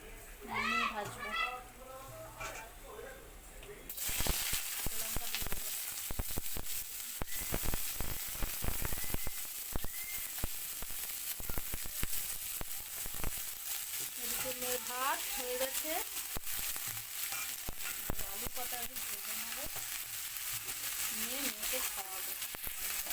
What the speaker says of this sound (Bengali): পান্তা ভাত খাওয়া হবে আলু ভাজা দিয়ে তাই জন্য ভেজে নিচ্ছে